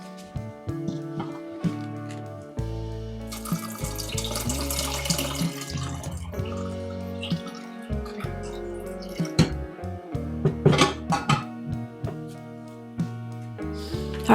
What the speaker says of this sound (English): I'm just gonna add some water now